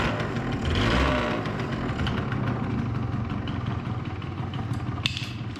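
A 2005 Yamaha YW50 Zuma 50cc scooter engine idles roughly and steadily for several seconds, a close, continuous low putter with a slight swell near the start and a sharp click toward the end.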